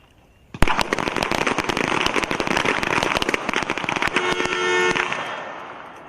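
Rapid volley of pistol shots in a team pistol match at an Army small arms championship, many sharp cracks overlapping loudly for about four seconds after a quiet start, then tapering off.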